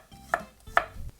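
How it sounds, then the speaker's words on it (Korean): A kitchen knife slices peeled garlic cloves on a cutting board, two sharp, distinct chops about half a second apart with faint clatter between, close and clear with no voices. "대충 편 썰어주세요."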